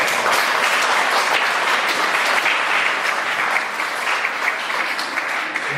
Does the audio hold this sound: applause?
yes